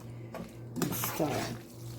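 A pot of spaghetti and meatballs with broccoli, topped with grated cheese, stirred with a utensil, giving a couple of short clinks and a soft scraping swirl, close by, with a voice briefly audible.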